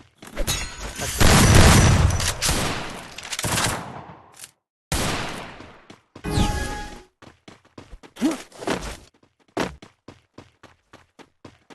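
A Thompson submachine gun fires in the mobile game Free Fire, with loud sustained bursts of automatic fire, a heavy boom, then a string of sharp, separate shots and short volleys.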